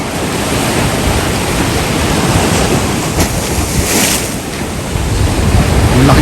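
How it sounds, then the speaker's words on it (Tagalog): Strong ocean waves break and surge steadily on the shore at Camara Island, Zambales, forming a continuous loud roar with gusts of wind buffeting the microphone and no talk. "Ang lakas ng alon eh."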